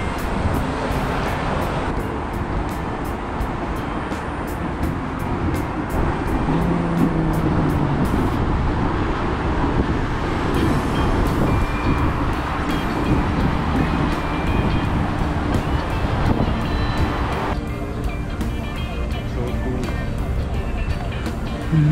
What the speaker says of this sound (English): Oh, there is a train coming.